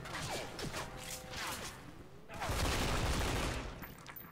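Rapid bursts of gunfire from a first-person shooter video game, rattling in dense volleys with a louder, heavier stretch near the end, mixed with game effects and voices talking over it.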